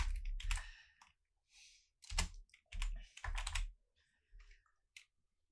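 Computer keyboard typing during setup of a car headlight control in Unreal Engine, in close, irregular bursts of clicking keystrokes separated by short pauses, with no voices.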